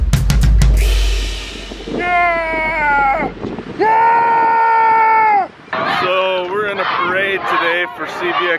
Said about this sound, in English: there's lots of yelling going on